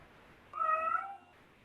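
A single clear cat meow, fairly close and moderately loud, lasting under a second against quiet room tone, with no talking over it.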